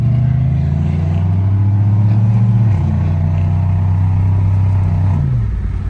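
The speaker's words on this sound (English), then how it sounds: "Just a couple of W-body LS cars ripping" A loud, steady V8 engine drone from LS-swapped W-body cars, deep low harmonics shifting pitch a couple of times as the engines are held at revs, continuous and close.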